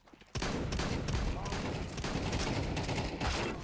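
Dense, continuous gunfire and firefight noise in Counter-Strike 2 with sniper rifle shots, loud and close, beginning abruptly and running without pause, with voices faintly mixed in.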